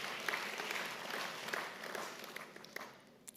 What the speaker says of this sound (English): can we give a round of applause to the chair?